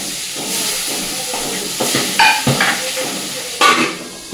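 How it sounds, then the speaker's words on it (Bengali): Pabda fish frying one at a time in hot oil in a kadai, giving a steady sizzling hiss with a few sharper spitting crackles, close and fairly loud with no talk. "এই কড়াইতে তেল বসিয়ে দিয়েছি, এবার পাবদা মাছগুলো ভেজে নেবো একটা করে"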